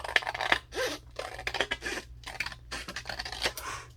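Scissors cut paper card along a score line at an angle, giving a series of close, crisp snips and rasping slides in short bursts with brief pauses between cuts.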